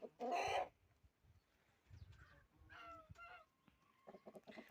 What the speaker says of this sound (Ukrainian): Отакий красень у нас півень є. Тільки нас почав щось на своїй мові говорити.